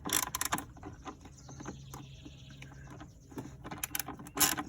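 Ratchet wrench loosening an 8 mm bolt on the battery of a second-generation Ford Fusion, close-up quick clicking bursts at the start and end with quieter mechanical rattles between.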